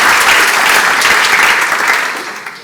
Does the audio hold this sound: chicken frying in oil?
no